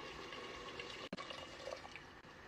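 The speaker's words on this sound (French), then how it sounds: "Je mets l'eau." Water poured into a couscous pot holding meat, carrots and spices for Tunisian couscous with osban balls, a steady close pouring rush with a brief break midway.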